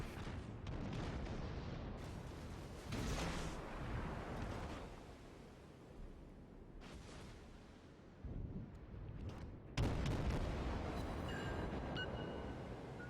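Naval gunfire in the video game World of Warships: several heavy booming salvos with rumbling tails, broad and loud, some overlapping, alongside continuous game background noise.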